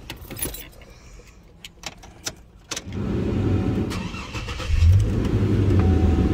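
Clicks and a jingle of keys, then the engine of a 2005 Chevy Trailblazer SUV turns over and settles into a steady, fairly loud idle nearby.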